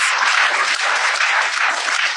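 Dense, steady applause from a crowd, many hands clapping together at an even loudness throughout, close and without any talking.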